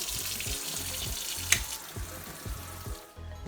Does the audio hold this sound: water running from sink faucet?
yes